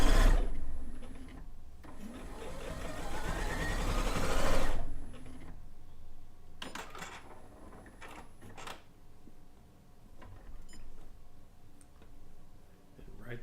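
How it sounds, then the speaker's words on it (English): A sewing machine stitches binding onto the back of a quilt, running in a steady, fast, loud whir for several seconds before stopping; afterward come quieter clicks and handling noises. "So I'm sewing the binding to the back of the quilt."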